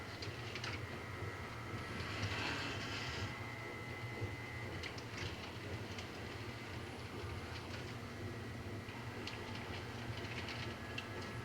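A model railroad through freight train runs with soft, steady rail rumble and light clicking and rattling of wheels on track at a faint, constant level, with no talking.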